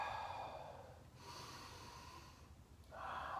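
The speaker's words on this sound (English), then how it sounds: "Just stand there and start to breathe." Slow centering breaths drawn in and out while standing tall during a balance and abdominal exercise, a soft breathy exhale followed by a quieter inhale and another exhale, close and alone.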